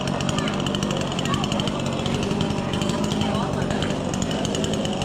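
A power saw cuts wood for a Holi bonfire, a continuous harsh, buzzing machine drone running steadily throughout, with people talking over it.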